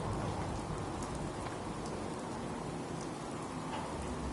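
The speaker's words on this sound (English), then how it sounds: "Hope this rain lets up soon." Steady rain pours in the video game Fallout 4, a dense, even hiss of falling water that holds constant throughout with no voices over it.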